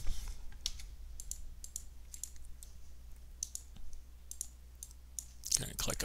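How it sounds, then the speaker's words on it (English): A computer mouse clicks on a desk during ArcGIS Pro work: a series of quiet, sharp, irregular clicks close by over a low background hum, with a brief louder rustle near the end. "Going to click OK."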